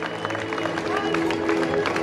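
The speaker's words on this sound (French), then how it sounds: "On peut l'applaudir encore." Crowd applause for the third-placed rider, David Gaudu, on the podium at the Classic Grand Besançon 2024 cycling race, a continuous patter of clapping with murmured voices and a faint tonal hum beneath.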